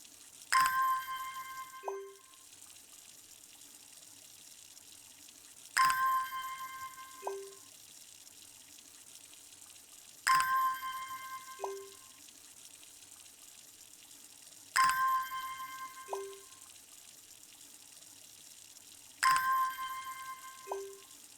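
Watering plants in the video game Strange Horticulture: five repeated watering effects, each a soft splash with a bright chime, spaced about four to five seconds apart, fairly quiet and with no talking.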